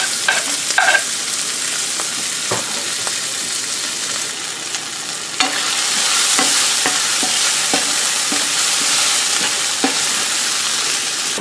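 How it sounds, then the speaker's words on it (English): Shallots frying in oil in a home kitchen pan, a loud steady sizzle with sharp crackles and pops, briefly stirred, no talking over it. "we have our oil in the pan. I have the shallots, so we're just gonna add our shallots here"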